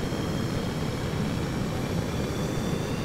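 A space shuttle lifts off in the Stormworks video game. A constant, heavy engine roar runs unbroken and loud through the whole moment.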